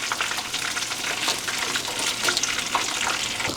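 Oyster mushrooms frying in hot oil for vegan tempura, giving a steady, close crackling sizzle with dense bubbling spatter throughout and no talking.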